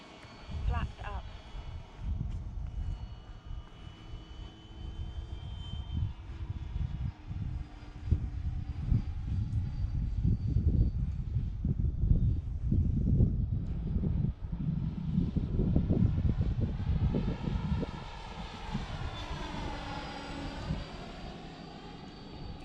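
FMS T-28 Trojan radio-controlled model airplane flying overhead, its steady electric motor whine rising and falling as it passes, with wind buffeting the microphone and a person talking throughout.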